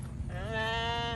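A goat at a petting farm bleating once, a single loud, wavering call that rises after a brief rustle and holds to the end.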